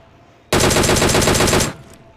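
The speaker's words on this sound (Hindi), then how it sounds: "मुझे सामने से गाड़ी दिखती है तो मैं फायर करता हूँ" Automatic gunfire in the video game PUBG Mobile on the Erangel map, shot at a vehicle ahead. One loud, close, rapid burst lasts about a second, then cuts off sharply.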